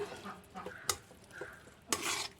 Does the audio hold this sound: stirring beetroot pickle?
yes